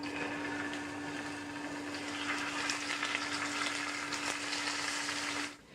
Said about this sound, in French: Donc j'installe ces coquilles Saint-Jacques dans la poêle